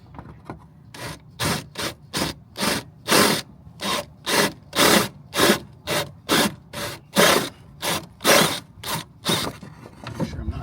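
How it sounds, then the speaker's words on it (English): A step drill bites into a Rivian R1T truck bed in repeated short bursts, about twenty evenly spaced grinding pulses separated by brief pauses. "I'm going to use a step drill"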